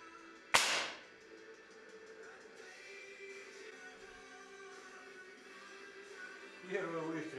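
A single sharp, loud rifle shot from a Smersh R10 during a zeroing test, a sudden crack with a short decaying tail, followed by quiet background and faint handling noise.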